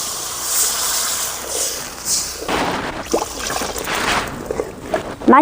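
Water pours and trickles into a pot of cooked-down tomatoes with a soft, uneven splashing and hiss, close by, ending with a few louder sloshes.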